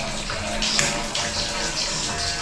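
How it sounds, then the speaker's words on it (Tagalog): Water gushes strongly and steadily from a household tap, a continuous bright hiss and splash close by with a few faint voices underneath. "Malakas. Lakas ang tubig, oh."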